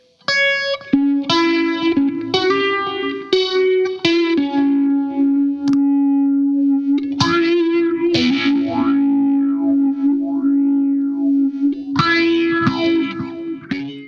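Six-string electric guitar played through an EHX Small Stone EH4800 phaser pedal, sustained notes and chords sweeping up and down with heavy distortion and echo, loud and up close.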